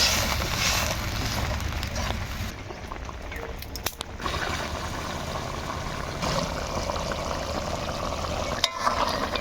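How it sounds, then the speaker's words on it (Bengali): Garlic cloves sauté in a pan with a steady, continuous sizzle and frying crackle, close and fairly loud throughout, with a few faint clinks from stirring. "এবার দশ থাকি বারো মিনিট এই রসুনগুলা ভালো করে একদম কষি নিব"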